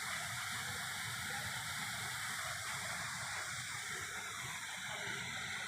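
Aadoshi waterfall near Khopoli, heard from above, rushes in a steady, dense roar of falling water, continuous and unbroken, distant and fairly faint.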